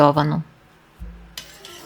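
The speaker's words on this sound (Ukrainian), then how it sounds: "І добре перемішую." A spoon stirs sugar and salt into water in a pot, making a brine for pickled tomatoes. A few soft clinks and scrapes follow a brief burst of talk, close and fairly quiet.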